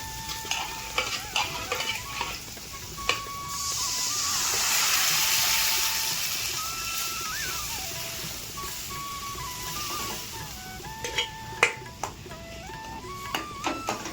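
Spiced tempering sizzles and is stirred in a pan for green-chili dal (varan), cooked village style. A steady frying hiss swells in the middle and fades back, with scraping stir strokes and faint tonal notes, and no talking.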